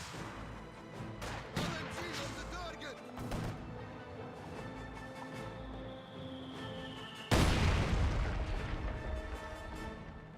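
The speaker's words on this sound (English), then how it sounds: "Grenade there. Does take a hit." Grenade explosions and artillery-like booms in Company of Heroes 2 battle, several bursts with a loud crash near the end, amid continuous combat noise under a commentator's voice.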